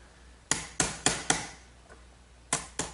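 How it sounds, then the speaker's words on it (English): Chisel blows strike wood while a mortise is cleaned out, six or seven sharp, close knocks in an irregular rhythm with brief pauses between them. No one speaks. "Now I'll clean out the rest of these 2 mortises with a good sharp chisel, just as before."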